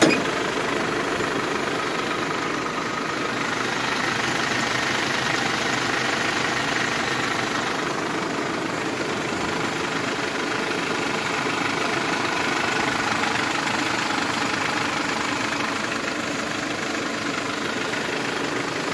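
A 2014 Mercedes Sprinter van with a 163 hp diesel engine idles steadily, a continuous even rumble with a faint knocking texture, close and fairly loud with no talking.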